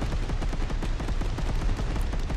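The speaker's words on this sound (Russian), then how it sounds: "Во, вы видели, что творит пушка?" Rapid cannon fire in a Micro Machines battle video game, a fast, regular stream of punchy shots continuing throughout at moderate loudness.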